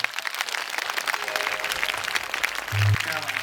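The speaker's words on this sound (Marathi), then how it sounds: "दोन्ही हात वर करून आवडत असतात का तुमच्या टाळ्या वाजवा" An audience at a village home-minister contest event claps loudly and continuously, a dense wash of applause with a short low hum near the end.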